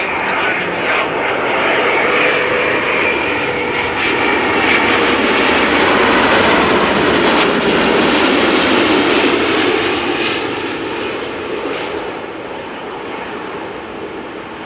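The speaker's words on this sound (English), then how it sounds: "Delta Airlines A300 Neo." A Delta Air Lines Airbus A330neo jet airliner roars past at Amsterdam Schiphol Airport, a loud, steady engine rumble and whine that swells and then slowly fades.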